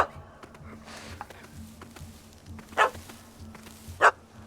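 Two short, sharp barks from a puppy in The Witcher 3: Hearts of Stone, the second louder, standing out over a low game ambience hum.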